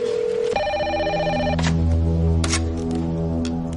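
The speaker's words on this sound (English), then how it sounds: "It's ringing." A telephone ringing indoors: a steady electronic ring tone starting abruptly, followed by layered sustained tones and hum, loud and close with no talk.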